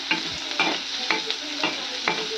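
Onions and green chillies sizzle in hot oil while a spoon scrapes and stirs them in regular strokes, about five evenly spaced scrapes over a constant close frying hiss, no voices.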